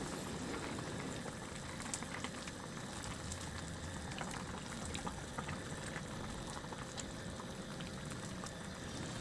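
Sotanghon glass noodles simmer in seasoned liquid in a pot, giving a continuous close bubbling and sizzling patter that stays steady throughout with no talk.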